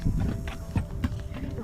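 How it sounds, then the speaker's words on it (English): Horse hooves clop at a walk over rocky desert ground near the Giza pyramids, an irregular series of close thuds and scrapes with a rider's voice heard lightly over them. "Oh, it's rocky here. Please be sure-footed, Strawberry."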